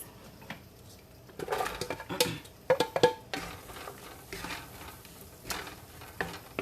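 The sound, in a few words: peppers added to a pan with flour, sautéing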